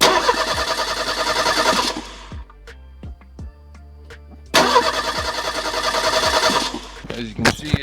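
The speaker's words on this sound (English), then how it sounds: "Now let's try cranking it over and see if it makes it go." A 1985 Merkur XR4Ti engine cranks over in two loud, sustained bursts of rapid starter churning, separated by a quieter pause with scattered clicks and small knocks, near and clear with no talk.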